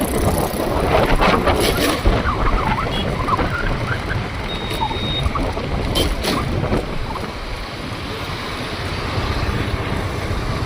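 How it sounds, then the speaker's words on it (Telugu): The flooded Munneru river in Khammam rushes fast, making a broad, continuous roar of turbulent water mixed with wind buffeting the microphone, steady and loud throughout. "చూడండి అక్కడ నుంచి చూడండి ఎంతగానో స్పీడ్గా వెళ్తున్నాయి వాటర్."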